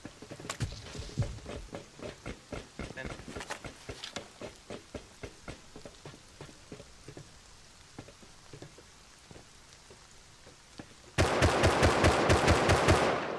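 AK rifle gunfire in a shooter game: bursts of rapid automatic shots, some distant and some closer, thinning out mid-clip before a loud, sustained close-range volley at the end.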